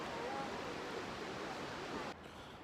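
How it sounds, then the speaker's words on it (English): Shannon Falls waterfall rushes in a soft, continuous hiss of falling water heard from a distance, fairly faint, cutting off abruptly near the end. "You guys can see the falls behind me."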